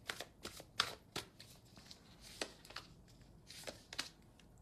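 Tarot cards being shuffled in quick riffling bursts, a series of crisp fluttering snaps with short pauses between, close and fairly quiet.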